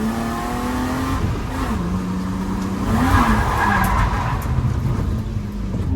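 A drift car slides through linked corners, engine revving hard with the clutch kicked, rising and falling in pitch as tyres skid and squeal, loud and continuous with no talk.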